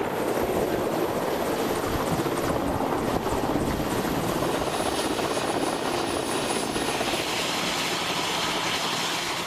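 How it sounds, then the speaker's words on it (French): A helicopter arrives carrying gorillas, its rotor chop loud and continuous with a dense, rhythmic thudding and engine whine that holds steady throughout. "c'est l'hélico qui amène les gorilles"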